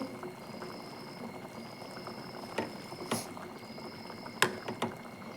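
Egg curry bubbles and simmers steadily in a pan, with a few louder pops and splutters over a soft background hiss.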